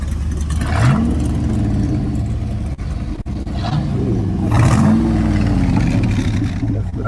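A modified Corvette engine revs loudly up close, rising and falling through several throttle blips over a steady idle, with people talking over it at a car show.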